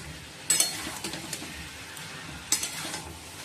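Boiled chickpeas and potatoes stirred into frying masala for chana masala, a soft steady sizzle with a few sharp spoon scrapes and clinks against the pan, close and alone.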